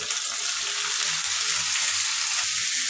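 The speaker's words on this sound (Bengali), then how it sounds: "এটাতে আমি করলা ভাজি করব। এখন করলাগুলি আমি দিয়ে দিব" Sliced bitter gourd sizzles and fries steadily in a pan with onions, a continuous close, loud hiss of hot oil with faint stirring clatter and no talking.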